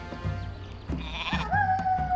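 Sheep bleating in Warcraft 3 Reforged, a wavering bleat at a farm with a windmill and well, rising over game music and ambience with no talking.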